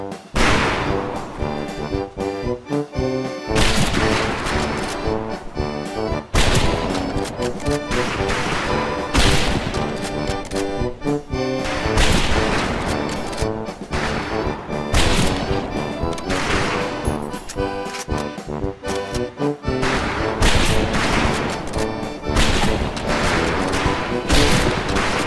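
Rifle fire crackles nonstop across a military firing range in Medal of Honor Pacific Assault, with many shots overlapping in a dense, loud volley under a steady bed of music.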